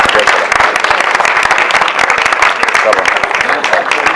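A church congregation gives loud, close applause, a dense crackle of many hands clapping continuously with faint crowd voices underneath.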